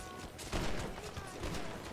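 Rapid gunfire in GTA V, bursts of shots crackling close and loud over a busy mix, with a voice talking through it.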